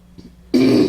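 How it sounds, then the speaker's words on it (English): Someone clears their throat in one short, rough burst, close and loud after a moment of near silence. "Gotta clear your throat for this one."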